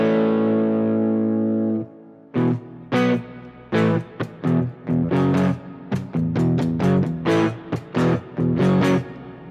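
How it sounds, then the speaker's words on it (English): Electric guitar through a Fender Tone Master Pro with heavy reverb: a long sustained chord rings out and decays, then a rhythmic run of short choppy chords and notes follows, each trailing a wash of echo. "Yeah, this is still a really overpowering reverb."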